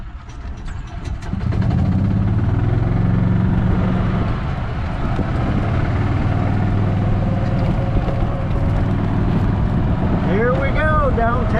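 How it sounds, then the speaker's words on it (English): A gas golf cart pulls away and keeps driving, its engine a steady loud rumble that fills the clip, with a few faint squeaks near the end. "We got the golf cart all ready to go, and now we're going to run it down to the gas station"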